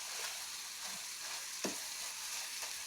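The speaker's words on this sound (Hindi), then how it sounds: "फिर से गैस 5 मिनट के लिए ऐसे इसको फ्राई होने देंगे।" Kashmiri-style spring onions fry in a pan on a gas stove, a steady close sizzle with a few soft stirring scrapes.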